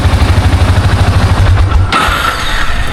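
A Yamaha TerraPro ATV engine runs with a loud, steady low throb and rapid firing pulses for nearly two seconds, then the note abruptly shifts to a higher, thinner whine as it keeps running close by.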